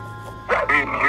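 A voice imitates a dog barking in a Peppa Pig cartoon, giving two short, close, loud woofing calls in quick succession.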